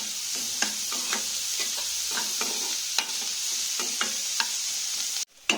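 Salted onions frying in oil, a loud continuous close sizzle with repeated scraping stirs of a spoon against the pan, then a brief sharp clatter near the end.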